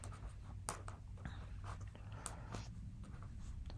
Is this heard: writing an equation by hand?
yes